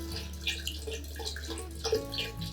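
Water poured into a jar of sand for a children's ocean demonstration, a steady close pour with splashing and trickling that shifts partway through, no talk over it.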